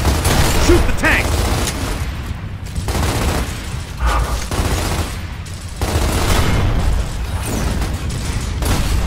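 Sustained gunfire in the Gears of War video game, aimed at a tank, rattling in dense bursts for the whole stretch alongside battle noise, with voices shouting over it.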